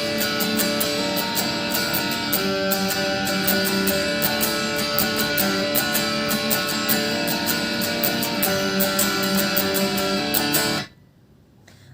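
Guitar plays the intro to a song: a steady, busy stream of picked chords and notes, loud and close, with no voice, cutting off abruptly near the end.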